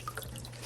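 Water drips faintly while something is rinsed in a white bowl, a few tiny, quiet plinks over a low, steady background hiss.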